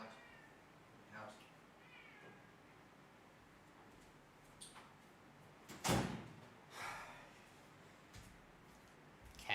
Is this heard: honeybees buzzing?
no